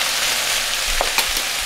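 Small pieces of pumpkin fry in a hot pan with a steady, close sizzling hiss, broken by a couple of brief clacks as they are stirred in.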